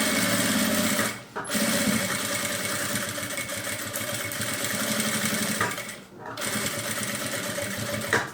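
A sewing machine runs a straight seam around a small zippered fabric pouch, whirring steadily up close with two brief pauses as the fabric is turned; a voice seems to talk quietly underneath.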